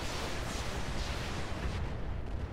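Artillery barrage firing in the Roguetech BattleTech game, a dense continuous rumbling roar of blasts with a heavy low end, loud and unbroken, easing slightly near the end.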